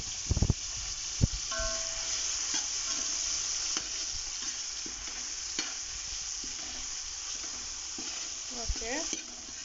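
Chopped tomatoes are stirred and fried into golden onion masala for chicken biryani: quiet, continuous pan sizzle with occasional close scrapes and knocks of the spoon.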